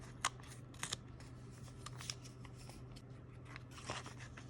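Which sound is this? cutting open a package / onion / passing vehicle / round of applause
cutting open a package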